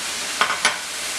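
Vegan pad thai sauce is tipped into noodles frying in a hot pan, giving a steady broadband sizzle with two brief bursts of hissing as the liquid hits, with no one talking.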